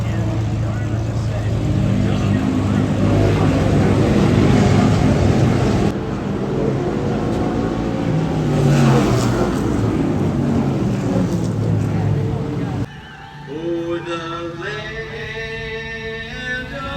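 A vehicle engine revs hard while accelerating in third gear, a loud, rising roar that climbs in pitch, drops off sharply, then rises again in steps, heard close with wind noise and possible voices.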